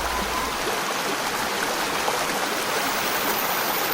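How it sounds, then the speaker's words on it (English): A stream rushes in a constant, dense wash of water noise, steady and fairly loud with no breaks or voices. "the sound of rushing water"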